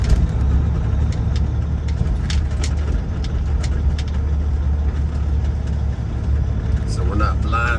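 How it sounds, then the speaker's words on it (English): A semi truck pulling a trailer maneuvers to turn around, its heavy engine rumbling low and steady close by throughout. "I'm gonna come in this way so I can get the trailer kicked around"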